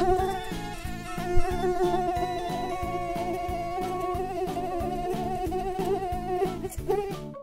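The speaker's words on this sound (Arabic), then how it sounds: "إنك أكثر إزعاجا من الذبابة أيتها البعوضة. ابتعدي أيتها البعوضة" A mosquito buzzes in a steady, continuous, nasal drone, loud and close, over a rhythmic musical beat that runs under it the whole time.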